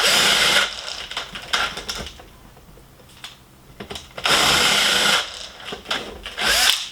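A 12-volt cordless drill with a 3/8 drill bit whines through bursts of drilling, a loud run at the start, a quieter stretch of near-stopped spinning, then another strong burst and a final short push.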